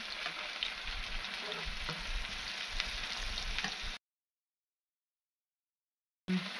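Nellore-style masala vadas fry in hot oil with a soft, steady sizzling hiss for about four seconds. Complete silence follows, then the sizzle briefly returns.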